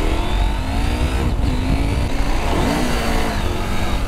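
A Husqvarna Norden 901 adventure motorcycle accelerates hard from a standstill, its engine note rising and shifting pitch continuously under load, loud and close for a few seconds.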